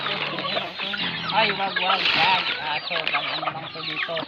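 Many chickens cluck and squawk nearby in a dense, continuous chorus, with a voice faintly talking underneath.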